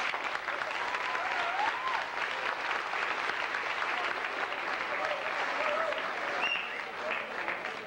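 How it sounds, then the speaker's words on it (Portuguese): Steady audience applause at the closing ceremony of a workplace safety week event in Monte Alto, São Paulo, honoring a contest winner; dense, continuous clapping fills the whole stretch at even loudness, with no voices over it. "Aplausos aí."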